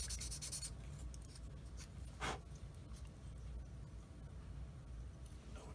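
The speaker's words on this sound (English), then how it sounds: "Sand that edge smooth." Edge of a plastic part from a Revell 1/48 F-15C Eagle model kit being sanded smooth, a quiet close scratchy rubbing with short strokes and a brief louder swipe midway.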